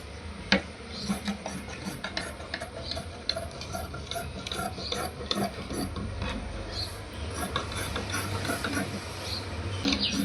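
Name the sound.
scissors cutting blouse fabric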